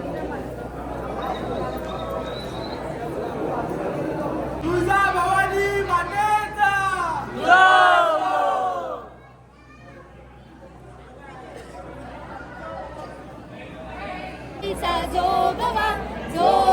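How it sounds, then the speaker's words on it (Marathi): Dense crowd of pilgrims at the Akkalkot Swami Samarth temple, a constant murmur of many voices with children calling and people chattering nearby, swelling and thinning. "किती गर्दी आहे बघा"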